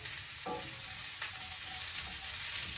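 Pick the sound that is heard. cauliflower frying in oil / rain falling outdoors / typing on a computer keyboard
cauliflower frying in oil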